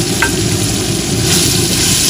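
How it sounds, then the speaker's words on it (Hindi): Boneless beef being fried in a pan with green chilies, a dense, even sizzle with soft stirring underneath, close and continuous with no voices. "बीफ को अच्छी तरह से भून लेंगे।"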